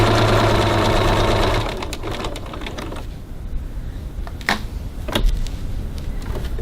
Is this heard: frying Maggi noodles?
no